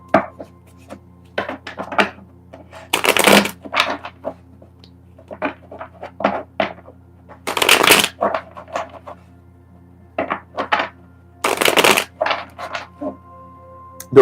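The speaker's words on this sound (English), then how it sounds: "I already shuffled the cards" Tarot cards are shuffled by hand in sharp riffles and scattered soft taps, with three louder bursts of card noise spaced several seconds apart over a quiet background.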